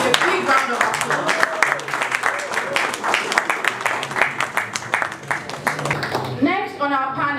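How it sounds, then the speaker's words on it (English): An audience at an investment conference applauds to welcome a panelist, with steady clapping throughout and a voice speaking as it fades at the end. "Please make him welcome with a big round of applause."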